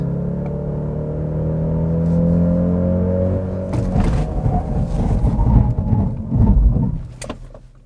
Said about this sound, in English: why don't we check out the braking performance of this 2022 Genesis GV70